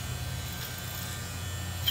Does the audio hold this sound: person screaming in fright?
no